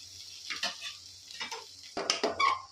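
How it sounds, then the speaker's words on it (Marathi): Dill greens frying in oil as a spoon stirs them, with a few scraping stirs and soft sizzling bursts, the last second louder with crackling oil, close up. "थोडी हलवतो खालीवर करण्यासाठी"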